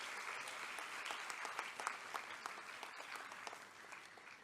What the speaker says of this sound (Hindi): आप सबकी तालियों के प्रणाम के साथ।